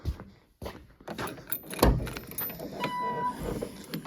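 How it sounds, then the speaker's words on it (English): The trunk of a 1999 Cobra replica is popped open with a few sharp latch clicks and thumps, a jingle of keys and light handling noises at close range, fairly quiet overall. "So let's pop the trunk"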